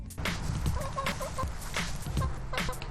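Backyard chickens in New Orleans cluck in short, irregular bursts nearby, with soft scratching and movement between the calls.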